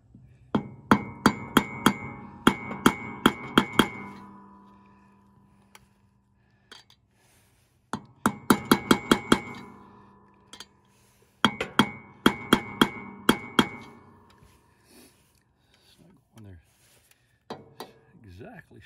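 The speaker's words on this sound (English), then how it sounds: "so I can hammer it in" A Harbor Freight hammer drives a drive-in grease fitting into a John Deere Z-Trac mower spindle: three bursts of rapid sharp metallic taps, each several strikes long, separated by pauses, with a few scattered lighter knocks and brief talk near the end.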